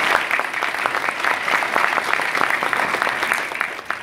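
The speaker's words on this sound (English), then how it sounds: "Can we clap for ourselves?" A church congregation at a parish Mass on the first Sunday of Lent applauds together, a sustained, even burst of many hands clapping that carries on for several seconds with no voices over it.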